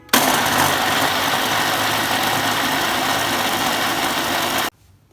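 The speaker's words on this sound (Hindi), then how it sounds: "अब इसे ऐड करते हैं जूसर ब्लेंडर जग में। फिर इसको हमने ब्लेंड करना है।" A juicer blender jug whirs loudly and steadily as it purees boiled, cooled chana dal, a dense continuous motor roar for several seconds before it cuts off abruptly into near silence.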